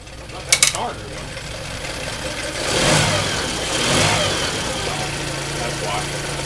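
A Yamaha 9.9 four-stroke outboard with a choke modification starts after a sharp click, then idles close by and revs up twice in gentle swells before settling.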